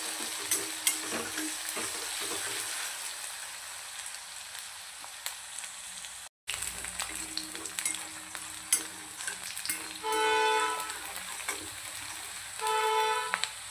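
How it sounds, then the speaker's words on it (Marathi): Onion sautéing in hot oil with curry leaves for chana masala, a steady close sizzle and crackle throughout, with brief louder bursts of hissing spatter near the end and no talking. "छानपैकी आपल्याला कांदा परतून घ्यायचा आहे तेलामध्ये।"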